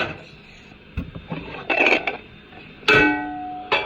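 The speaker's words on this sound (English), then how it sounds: "I'm gonna put a bowl over it." A ceramic bowl clatters down over an egg onto a hard surface with a sharp clack, followed by light scraping and a final knock as it settles.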